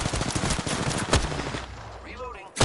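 Gunfire in a video game firefight, rapid machine-gun bursts rattling loudly and close by, mixed with a voice talking over the shooting before a brief lull.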